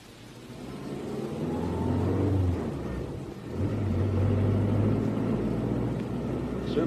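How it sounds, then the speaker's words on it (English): A car engine hums and revs as it drives off in a radio drama, a low rumbling drone that swells, dips briefly, then rises again at moderate loudness. "The car's over here."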